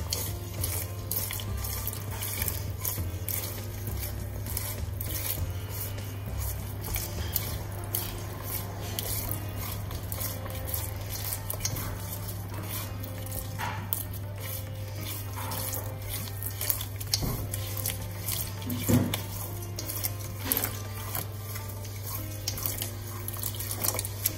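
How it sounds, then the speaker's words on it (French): Water is poured into flour in a bowl and stirred by hand while harira soup is prepared, a steady wet trickle and sloshing stir continuing throughout under a low constant kitchen hum. "on met de l'eau dans la farine. On la mélange avec de l'eau."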